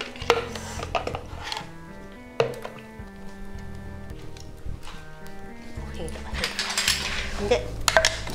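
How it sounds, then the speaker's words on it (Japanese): A metal cooking pot clanks and scrapes as it is set down and handled while making potato soup in a kitchen, with repeated knocks and clatters under a person talking throughout. "これをお鍋にですね戻してもらって"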